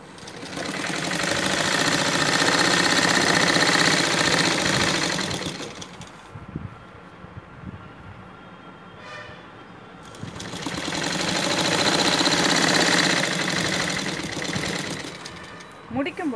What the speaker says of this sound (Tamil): இப்போது இது மாதிரி கீழே நம்ம மிஷினில் தைச்சிட்டோம்